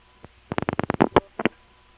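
Old Stromberg step-by-step telephone exchange gear on a long cable pair sounds a quick run of clicking selector pulses followed by short bursts of low tone, faint and isolated against line hiss.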